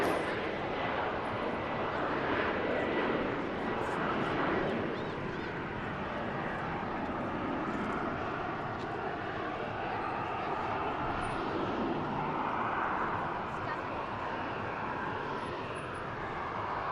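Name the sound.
aircraft departing at Manchester Airport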